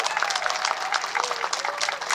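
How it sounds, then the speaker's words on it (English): Loud, close applause from the crowd at a Veterans Day ceremony in Santa Monica, following an enlistment oath; dense clapping continues throughout with a faint voice or cheer running through it. "Let's give them a round of applause."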